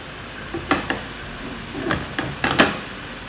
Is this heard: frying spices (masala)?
yes